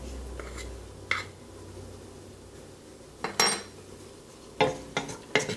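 A roux of flour cooking in oil in a pan, with a faint low sizzle under a few sharp clinks and scrapes of a utensil against the pan as it is stirred.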